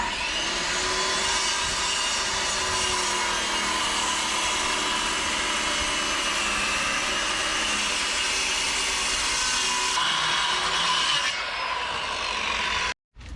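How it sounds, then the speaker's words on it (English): A handsaw cuts through wooden engine mounts during a wooden boat restoration. A continuous rough, rasping saw noise runs close and loud, then cuts out abruptly at the end. "I could hand cut it, and we'll see how this goes"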